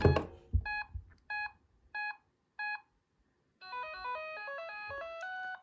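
A bright electronic power-on jingle: four short identical beeps, then a quick rising-and-falling melodic tune of chiming tones, clean and close.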